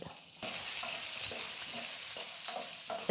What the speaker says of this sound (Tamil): இஞ்சி பூண்டெல்லாம் கொஞ்சம் வதங்கிடுச்சு